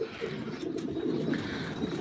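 Pigeons in a loft coo steadily at close range, a low continuous murmur of overlapping calls with no gaps across the whole stretch.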